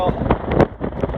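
Steady rushing wind in the Alaskan wilderness buffets the microphone, a broad roaring noise with gusty surges throughout.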